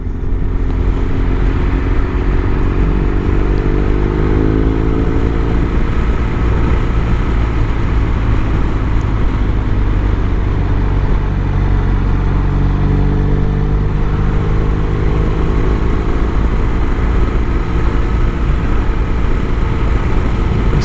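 BMW R1200 RS motorcycle riding along a road, its engine drone steady and loud, wrapped in heavy wind rush, with slight rises and falls in pitch.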